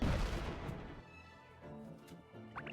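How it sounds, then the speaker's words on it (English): Cannons firing at a robot ship in the SpongeBob SquarePants: Battle for Bikini Bottom Rehydrated game, a heavy booming blast that rolls off into a rumbling decay, with faint tonal game sounds following. "With a single push of this button, the cannons will fire!"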